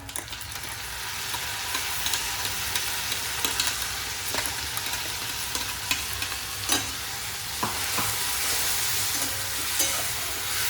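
Onion sizzling in hot oil with ginger, garlic and coriander paste, while a spoon stirs and scrapes the pan in scattered clacks over the steady frying hiss for chicken biryani, nearby and continuous.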